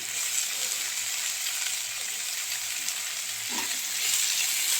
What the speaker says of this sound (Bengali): আমি এগুলোকে হালকা লাল করে ভেজে দেবো পেঁয়াজ আর আদা কুচিটাকে